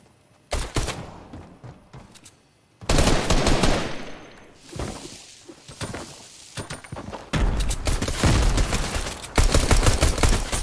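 Pistol shots fired in Fortnite, a loud series of sharp cracks in clustered bursts across the clip, with heavy gunfire noise and a short quieter gap between volleys.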